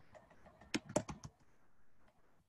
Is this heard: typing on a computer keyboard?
yes